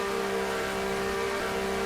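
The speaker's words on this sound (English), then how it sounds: "this uses a V6 engine" A V6 race car engine in the NR2003 racing game, running from a 1991 Goody's 300 race: a steady, loud, sustained mid-pitched drone with a constant tone and no clear shifts, heard alone without talk.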